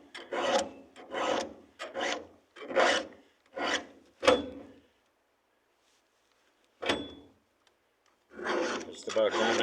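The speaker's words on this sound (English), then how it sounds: "I hate sharpening fucking chainsaws." A hand file rasps against a chainsaw chain in close, crisp strokes, six quick back-and-forth passes, a pause, one lone stroke, then another burst of filing.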